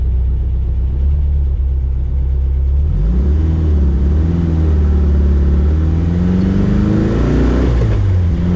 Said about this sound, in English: This is a strong little motor.